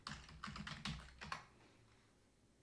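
A computer keyboard typing a short folder name, a brief run of soft, close key clicks that stops after about a second and a half, leaving quiet room tone.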